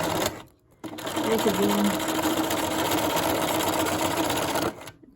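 A sewing machine runs a straight stitch around a fabric Valentine heart, a steady fast mechanical whirr that fills nearly the whole stretch after a brief pause, with a short spoken phrase near the start.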